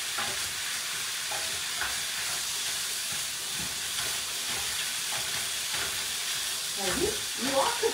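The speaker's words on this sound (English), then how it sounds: "You are cooking a lot of meat." Chopped meat for crunchy tacos sizzles and fries steadily in a pan while being stirred, with scraping and clatter of the utensil growing busier toward the end, loud and close with no talk.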